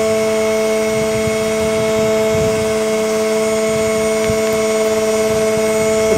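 A 775 bearing DC motor running at 24 volts gives a loud, steady high-pitched whine with strong tonal hum, constant and close, with no talking.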